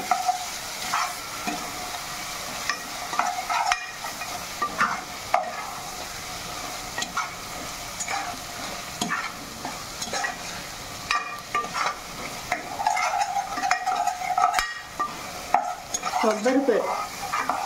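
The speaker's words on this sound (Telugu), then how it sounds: "కొబ్బరి పేస్ట్ వేసినాక బాగా కలుపుతున్నానండి" Coconut paste being stirred into a potato and egg curry in a pan, a close, steady scraping and stirring with a light sizzle underneath that continues throughout with irregular strokes.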